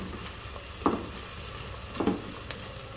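Onions frying in a pan, heard as a steady low sizzle with two brief louder bursts of stirring or scraping, close by and with no talk.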